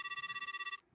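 Telephone ringing while calling an apartment manager in a haunted-apartment video game: one electronic ring tone with a rapid warbling pulse, clear and alone, cutting off abruptly near the end.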